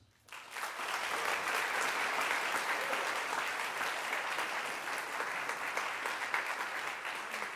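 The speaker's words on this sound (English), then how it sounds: "you guys keep clapping for us" A school audience claps for the Trinity Prep jazz and percussion ensembles: a sustained, full round of applause that rises quickly and holds steady for several seconds, dense and even, with no one speaking.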